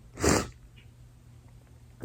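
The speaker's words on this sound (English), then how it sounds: "That was a single sneeze 2 different times right there." An adult man lets out a single sharp, close sneeze, followed by quiet breathing and a faint sniff near the end.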